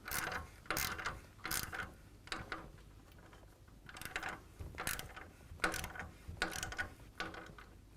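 Ratchet wrench tightening a clamp bolt on an S&S Cycle motorcycle performance upgrade, repeated bursts of close metallic clicking in short strokes with brief pauses between.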